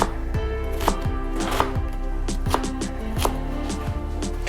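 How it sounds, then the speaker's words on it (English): A knife cuts Piave cheese into long shards on a board, giving a steady series of sharp, close chopping taps with no talking. "I wanna go kind of like long shards on this."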